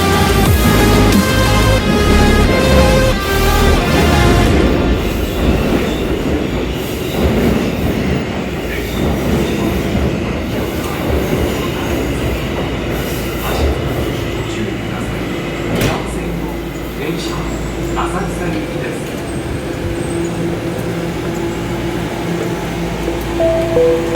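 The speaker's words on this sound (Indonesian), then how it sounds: "Pas sekali keretanya datang, jadi kita naik kereta ke Asakusa" A Tokyo Metro Ginza Line subway train pulls into Ueno station, loud and close, with a rolling rumble, clattering wheels and high metallic squeals that ease as it slows, over station ambience and nearby voices.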